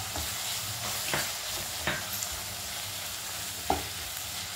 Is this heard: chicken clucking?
no